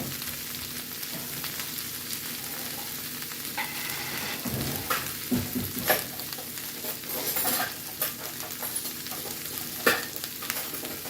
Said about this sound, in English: And we're adding our Brussels sprouts.